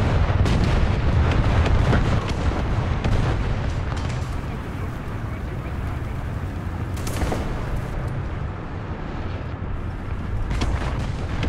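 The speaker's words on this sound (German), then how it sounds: "Alter, was ist denn das mit dem Artilleriefeuer hier?" Artillery fire in War Thunder during a tank battle: dense, continuous booming barrage with repeated heavy blasts rolling over a loud rumbling battlefield, with a few sharper impacts standing out.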